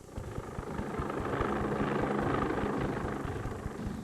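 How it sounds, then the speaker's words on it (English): A privately piloted helicopter flies overhead, giving a loud, steady rotor thrum and engine roar that swells slightly and holds for the whole few seconds. "every day Little pilots his own helicopter to work"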